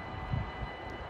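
A train passing at a railway spot in Sint Joost, heard as a steady, loud low rumble and rolling drone that holds throughout with no talking.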